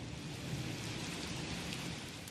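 Heavy rain pours steadily through a stormy night, a dense, even hiss with a low rumbling undertone that never lets up across the short stretch.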